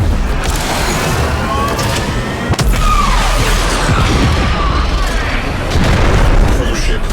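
A cruise ship's reactor detonating in the Warframe Railjack space battle gives a loud, sustained rumbling blast that fills the whole stretch. Game sound effects run underneath, and voices talk over it.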